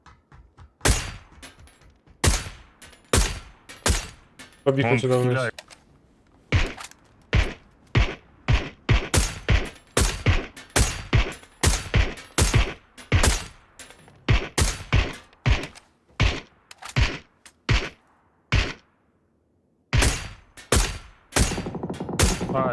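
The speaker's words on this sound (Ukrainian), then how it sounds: "Ззаді десь стріляють." Rapid gunfire bursts from PUBG gameplay, crackling in quick volleys with brief pauses, while someone talks between the shots.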